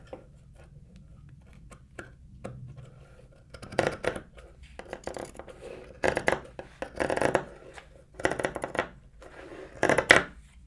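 Scissors cutting fabric for a sewn washcloth, a series of close, crisp snips arriving in irregular bursts that grow denser toward the end, with faint handling noise between cuts.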